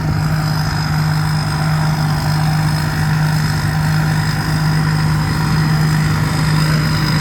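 A rice harvester's J5 twin-turbo engine runs steadily, a loud continuous drone with a strong low hum and a constant high whine, close and unbroken, no voices.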